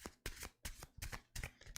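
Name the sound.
shuffling tarot cards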